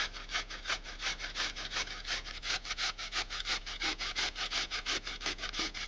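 Kohlrabi is peeled by hand with quick, regular scraping strokes, a close rhythmic rasp repeating about five times a second with no talk.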